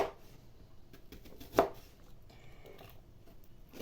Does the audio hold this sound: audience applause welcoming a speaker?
no